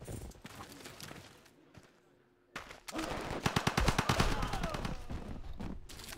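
Gatling gun firing in the strategy game Civilization 5, rapid rattling bursts of automatic gunfire that start after a brief lull, loud and dense, with some faint background game sounds.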